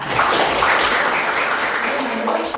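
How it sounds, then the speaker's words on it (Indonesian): Classroom applause for a student, dense steady clapping from a group lasting the whole stretch at a fairly loud level. "Tepuk tangan buat Patra."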